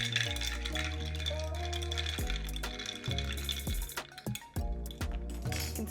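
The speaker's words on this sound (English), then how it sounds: "give this a nice stir." A spoon clinks and rattles against a glass while stirring a homemade pumpkin spice latte with milk, producing repeated close, light chinks in an irregular rhythm over quiet background music.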